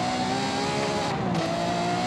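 Ferrari F50 with a 4.7-litre V12 from 1995, driven in the Forza Horizon 5 racing game, roars with a steady, loud, high-pitched engine note, held close and continuous with no talk over it.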